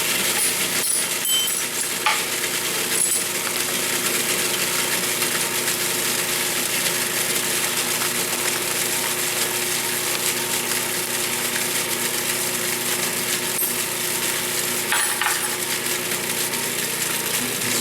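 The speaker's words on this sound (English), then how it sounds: "Almost right away, you can hear that motor change." A blender motor whirs steadily while blending a mixture just after xanthan gum is added, a bright, constant high-pitched drone that stays even and close for the whole stretch with no pauses.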